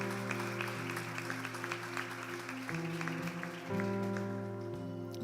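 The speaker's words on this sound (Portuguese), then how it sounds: "Você pode aplaudir a Deus." A church congregation claps steadily through a worship service, the applause sitting under loud sustained keyboard or organ chords that shift pitch midway.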